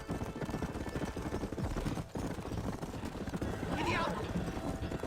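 Horse from the video game Red Dead Redemption galloping with steady clip-clop hooves over a busy, dense game mix, a whinny rising briefly near the end, while a person talks over it.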